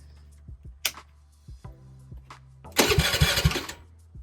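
Honda NAVI engine starting with its kickstand down: a few quiet clicks and cranking attempts, then the small engine catches and runs loud and close with rapid uneven firing pulses.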